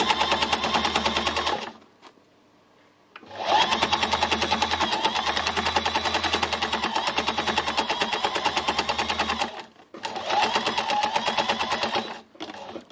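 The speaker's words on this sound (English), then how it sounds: "I'm just embellishing it quite lightly because I don't want it to be held down so hard that it's really flat." An embellishing machine works over fabric scraps, its needles chattering in a rapid, even mechanical rattle across two long runs, with brief pauses between them.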